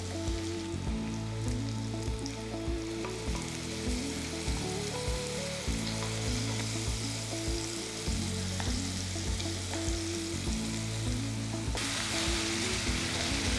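Ground masala paste and onions for egg curry sautéing steadily in a pan, a continuous close sizzle with stirring scrapes and soft utensil knocks throughout, no voices.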